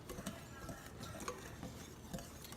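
Cornmeal, sugar and salt stirred together in a bowl for skillet cornbread, a soft continuous scraping and rustling with faint utensil taps, close and quiet, with no voice.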